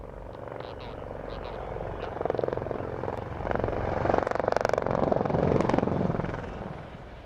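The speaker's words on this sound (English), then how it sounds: "Now the 5 helos are changing the formation to perform a break called Alhambra." Five helicopters flying in formation at the RAF Waddington Airshow 2014 give a continuous rotor thrum at a distance, swelling in loudness as they change formation for a break manoeuvre, with a faint commentator voice mixed in.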